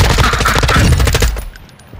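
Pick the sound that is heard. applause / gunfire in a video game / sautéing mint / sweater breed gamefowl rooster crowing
gunfire in a video game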